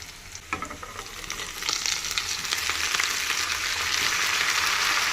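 Onions and beans fry in hot oil in a pan, a close, steady sizzle that builds after the first second and holds loud to the end, with some stirring and no talk.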